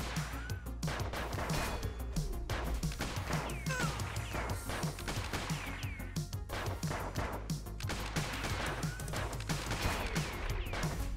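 Rapid pistol, dual-pistol and shotgun fire in the arcade brawler Kung Fury: Street Rage, loud and dense, with repeated sharp bangs and smashing impacts continuing throughout without pause.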